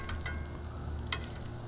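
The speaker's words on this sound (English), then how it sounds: "And they are frying up." Cubed mac n cheese bites fry on a Blackstone 22-inch griddle, giving a steady close sizzle with light scraping and stirring clicks, no talk.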